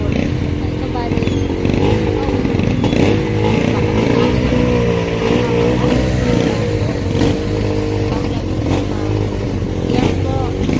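Motorcycles ride past on a road near Ternate, Cavite, close and loud with engine drone rising and falling, while someone talks over the traffic.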